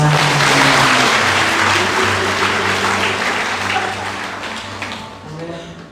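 Church congregation applauding during a worship service, a dense wash of clapping that fills the room from the start and slowly thins toward the end, with voices and music tones underneath.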